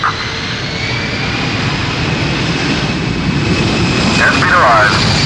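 Engines of an amphibious aircraft spool toward takeoff thrust on water, a loud, steady roar with a rising whine throughout, while a voice speaks over it near the end.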